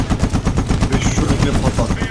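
Sustained automatic gunfire in Medal of Honor (2010), a close, loud, fast and even stream of shots throughout.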